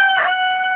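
A four-month-old broiler rooster gives a brief, loud, close crow with a strong tonal ring, heard alone.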